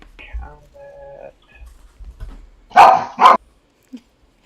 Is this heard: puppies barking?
yes